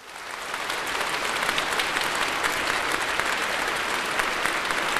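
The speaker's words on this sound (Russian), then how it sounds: "Ваши аплодисменты, встречайте" Audience applause at the Miss Western Ukraine Bukovina Open 2010 pageant, a dense, steady wash of many hands clapping that swells in quickly and holds loud and even throughout, with no talk over it.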